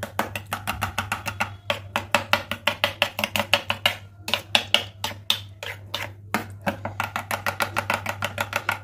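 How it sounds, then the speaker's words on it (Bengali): Yogurt for dahi vada being beaten with a whisk or spoon in a bowl: a fast, steady run of close, crisp scraping strokes, briefly pausing midway before resuming, with no talking. "এইভাবে ফেটিয়ে দইটাকে আমি সেট করে নেব।"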